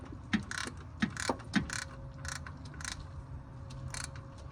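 Ratchet tool clicking in short bursts while loosening a spark plug on a 2003 Nissan 350Z, several sharp mechanical ticks close by, with a steady hum underneath.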